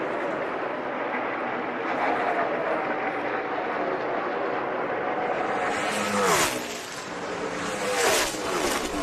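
NASCAR stock cars race around the track in a steady, loud roar of engines and broadband noise, with a couple of brighter surges as cars sweep past close by.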